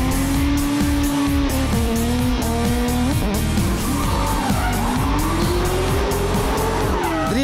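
Drift cars at the Russian Drift Series GP scream with revving engines and continuous tire squeal, loud and dense throughout with rising and falling engine pitch as the cars slide around the track.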